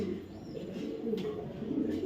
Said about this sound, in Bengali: এই একটা কবুতর দেখেন